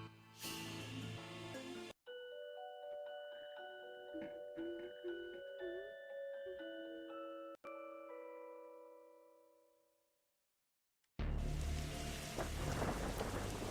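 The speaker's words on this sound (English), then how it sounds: "That's definitely a strange storm." In the video game What's Up, Poe?, a strange storm gathers over a library: loud rain-and-thunder noise opens and closes the clip, and a soft chiming melody plays in the middle, fading into brief silence.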